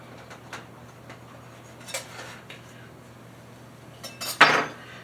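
A knife slicing banana bread in its pan, a few quiet scrapes and taps followed by a louder clatter near the end, in a quiet room.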